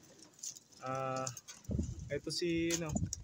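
Pigeons coo in a couple of low, warbling calls, one in the first half and a second a moment later, with someone talking over and around them as the birds feed close by.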